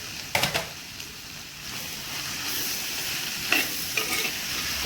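Crushed shallots stirred into onions frying for a Kerala-style goat liver curry, giving a steady close sizzle with a few sharp spatula scrapes and clatters against the pan.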